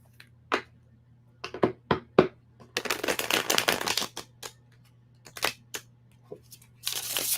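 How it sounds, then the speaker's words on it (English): Tarot cards being shuffled by hand, heard as a series of short riffling bursts and one longer flurry of card noise, with pauses between them over a low steady hum and no talking. "I got to shuffle again"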